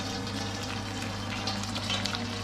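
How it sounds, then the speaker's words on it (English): Boiled kettle water trickles and gurgles steadily as it drains through washed cider lees while Jersey black butter is being made at home. The close, soft pouring sound runs on alone without pause. "You can hear the water draining through."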